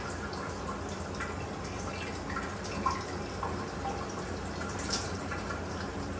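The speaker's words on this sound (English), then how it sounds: "We've got that glorious hot water, but not too hot" Hot water runs steadily from a tap after plumbing work, a constant broadband hiss with faint dripping and splashing mixed in, moderately quiet and close.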